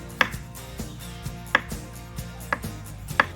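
A knife shaves bits of skin off rustic potatoes for mashing, with four sharp, separate scraping cuts spaced about a second apart against a quiet kitchen background.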